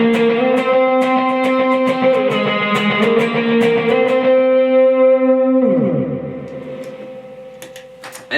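Electric guitar with heavy effects plays a run of bright, ringing octave notes with echo, shifting lower near the end, alone and close.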